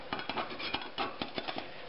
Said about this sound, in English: We're going to go around the entire edge with our cake knife